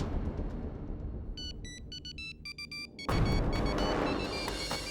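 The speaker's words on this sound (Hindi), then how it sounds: "ये शायद अवनी का फोन।" A phone rings with short repeated electronic tone bursts in a tense courtroom drama scene, followed by a louder swell of dramatic music.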